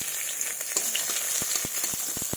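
Bay leaf and nigella seeds fry in hot mustard oil in a kadai, a constant bright sizzle with scattered sharp pops and crackles, close and steady, no talking.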